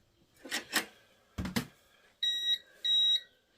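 Two short electronic beeps from a gas detector sound in a row, high and clear, following a couple of brief clattering knocks, while filling a gas tank; fairly quiet overall.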